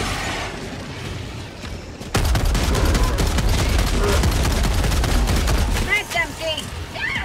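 Heavy machine gun fire in Helldivers 2 erupts abruptly as a loud, rapid, sustained burst of shots lasting several seconds, preceded by lighter background combat noise. Someone speaks over the gunfire near the end.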